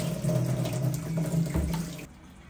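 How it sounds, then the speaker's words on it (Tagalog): Hot water pouring steadily into a container, a continuous splashing gush close by that cuts off near the end. "Lagyan lang natin ng mainit na tubig."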